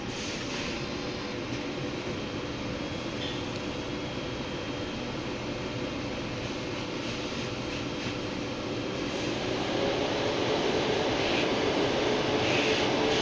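An Epson S7170 large format printer runs a nozzle check, giving a steady mechanical whir and hum that continues throughout and grows slightly louder near the end, with no talking.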